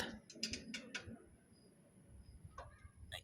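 A wrench ratchets in short clicking bursts while a drain bolt is loosened on an e-bike gear housing during a gear oil change, close and fairly faint, with quiet pauses between the clicks.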